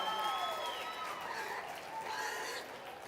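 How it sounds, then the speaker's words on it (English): Applause from a crowd at the North Idaho State Fair market goat and swine showmanship finals, a steady wash of clapping that holds for about three seconds at moderate, somewhat distant level. "Let's give them a nice round of applause."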